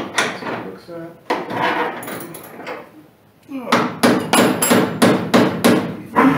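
A Factory Five 33 Hot Rod's car door is swung shut several times during door alignment, producing repeated sharp metallic thuds and latch clunks, close and loud, with people talking in between.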